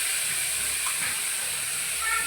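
Masala hitting very hot oil in a home kitchen pan, a steady bright sizzle and hiss holding evenly throughout, close and continuous.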